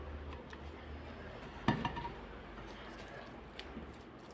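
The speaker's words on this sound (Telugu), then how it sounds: "స్లోగా ముక్కెడవకుండా చక్కగా కలుపుకోవాలండి." Fried gorakala fish being gently stirred with masala for a Bhimavaram-style fish pickle: soft scraping and clinks of a utensil against the pot, one sharper knock partway through, quiet and close.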